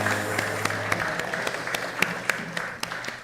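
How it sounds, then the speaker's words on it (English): Applause from an audience at an annual emancipation lecture, steady clapping with sharp individual claps standing out over a low hum, continuous for a few seconds with no talking. "Let's give them another round of applause."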